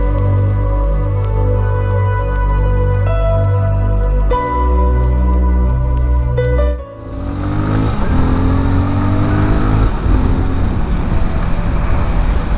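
A motorcycle engine captured from a GoPro helmet mount hums loud and steady at first, then revs up with a rising, wind-buffeted roar as the bike accelerates.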